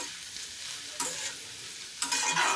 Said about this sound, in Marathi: आता आपण राहिलेला सगळा कोबी घालून घेऊया.